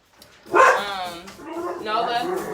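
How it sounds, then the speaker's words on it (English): A dog on guard barks and yips close by, with a sharp bark followed by whiny, drawn-out vocalizing, mixed with a person talking. "Y'all know I got a dog, right? When she hears stuff, she gotta get into her guard mode"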